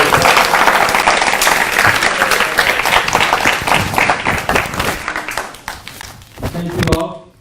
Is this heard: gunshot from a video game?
no